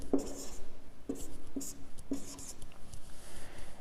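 Pen writing out a maths calculation on paper, a few close scratchy strokes in short bursts with small taps between, no voices.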